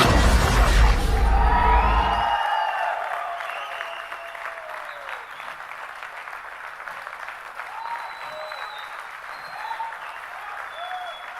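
Loud crowd applause at a Micromax phone launch event fades after about two seconds, leaving a quieter hall where music or effects continue in the background.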